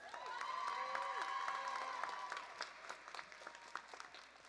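Audience applause at a summer graduation ceremony, a steady burst of clapping from a crowd that fades out over a few seconds, with some cheering and a voice in the background.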